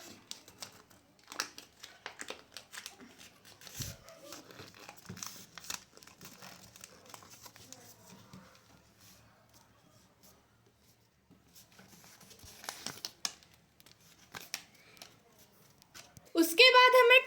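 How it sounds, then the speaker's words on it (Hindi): Paper crinkles and rustles in scattered bursts as it is wrapped and bound around a transformer for a 12-volt, 10-amp battery charger, with a louder crunching burst at the end. "सो आपको कुछ इस तरह से पेपर को जो है बाइंड कर देना है"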